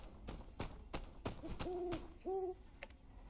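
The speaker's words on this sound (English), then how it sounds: "a stray pig-nosed owl" A stray pig-nosed owl in the game My Time at Sandrock gives two short tonal hoots, clear and close, between sharp clicks and taps of game sound.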